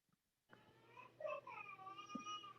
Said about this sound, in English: Did I hear a cat?